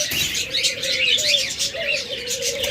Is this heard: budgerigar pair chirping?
yes